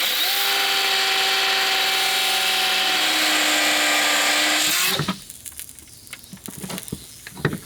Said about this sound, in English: There's a lot of bolt to grind off.